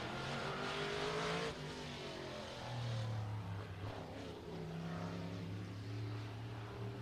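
A race car laps F8 Showtime Speedway on its first qualifying lap, the engine note droning and rising and falling from a distance as it circles the short oval.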